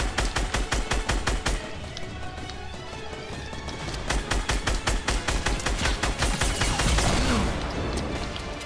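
Rapid bursts of automatic gunfire in a Fortnite match come in loud, repeated volleys throughout, pausing briefly midway before resuming more densely.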